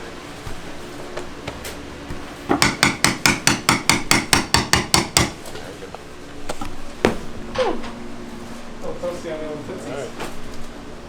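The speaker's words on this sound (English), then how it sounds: "It's hammer time." A rapid run of about fourteen sharp hammer blows rings out, evenly spaced and loud, followed by a few scattered knocks and clatter with faint talk.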